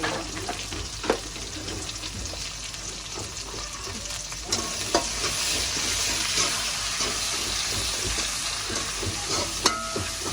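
Curry leaves, cumin and onion frying in hot oil in a pan, a loud, continuous close sizzle with occasional stirring clicks and no talking.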